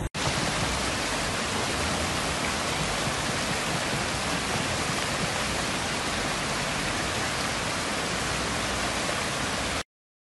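Heavy downpour in Iporã, Paraná, a dense, steady roar of rain that stays loud and unbroken for about ten seconds before cutting off abruptly, with no voices.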